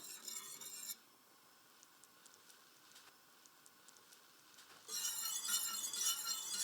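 A spoon stirring velouté sauce in a pan, with soft scraping and clinking of metal against the pan, louder at the start and end with a faint, quiet stretch between.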